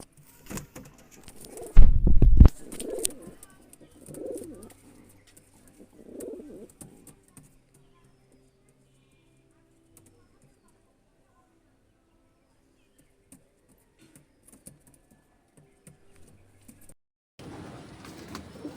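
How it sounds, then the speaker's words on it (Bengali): Home-bred black pigeons cooing nearby: a few soft, rounded coos come in the first seconds after a loud thump. Near quiet follows, and a burst of rustling noise closes the clip. "পায়রা আমি ছেড়ে দেখাচ্ছি"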